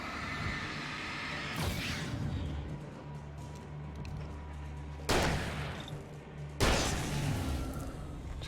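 Two gunshots inside or near a house, each a sudden broad burst rising out of a steady background hum, the second following about a second and a half after the first, with no talk during the shots.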